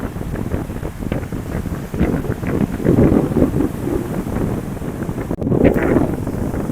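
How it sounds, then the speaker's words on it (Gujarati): Large waves breaking on a rough sea shore, a steady loud roar of surf mixed with heavy wind buffeting the microphone, swelling in bursts with a brief dropout near the end. "જો કેવડા મોજા આવે છે મોજાની સાઈઝ વધતી જાય છે"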